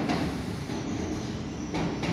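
Train passing outdoors by a courtyard in Poland near Poznań, a steady loud broadband rumble and rush that holds throughout without a break.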